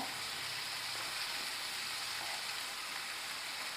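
Curry leaves and green chili sizzling in hot oil in a pan while being stirred, a steady, close frying hiss with no talk.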